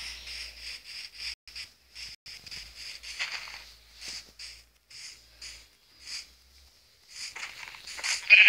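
Sheep in a Minecraft-style survival video game give a series of short, repeated synthetic bleats, fairly close and evenly loud, with no talking over them.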